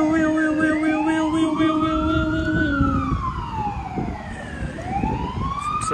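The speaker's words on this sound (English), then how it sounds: "Oh, there's an ambulance." An ambulance siren in Melbourne wails steadily, its pitch sweeping up and down in long slow arcs, loud and fairly close over road noise.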